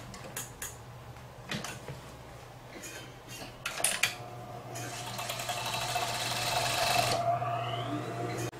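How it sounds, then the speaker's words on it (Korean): An overlock serger runs along the fabric edge of a wall-mounted air conditioner cover. Scattered handling clicks and rustles come first, then a continuous whirring stitch builds over the last few seconds, close and moderately loud. "배관 구멍 뚫은 걸 기준으로 전체를 오바록 해주시면 돼요"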